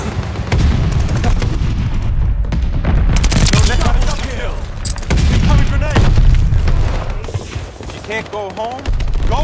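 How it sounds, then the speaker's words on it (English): Booming grenade explosions and rapid gunfire from a Call of Duty: Vanguard Kill Confirmed match on PS5, loud and continuous with bursts of automatic fire, while voices shout over the combat. "Incoming grenade!"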